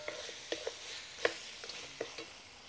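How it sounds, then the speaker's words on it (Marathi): Washed fenugreek leaves go into a pan of mutton with turmeric, giving a faint, steady sizzle broken by a handful of soft stirring clicks and taps. "आपण जी धुवून घेतलेली मेथी आहे ती पण टाकून घेऊया"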